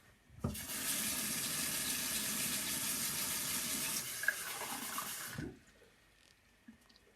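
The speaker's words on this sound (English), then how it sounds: "I'm really thirsty now, so I'm just going to grab a glass of water." A kitchen tap runs steadily for about five seconds while a glass fills, starting and stopping with soft clunks, followed by a few faint clinks; close and quiet.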